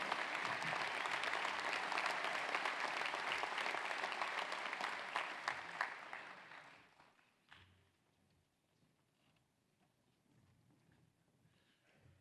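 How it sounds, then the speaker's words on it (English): An audience at the Greater Knoxville Sports Hall of Fame ceremony applauds for the class of 2020. Dense, sustained clapping fills the room for about six seconds, then fades to scattered claps and quiet room noise. "how about a nice round of applause for the Greater Knoxville Sports Hall of Fame class of"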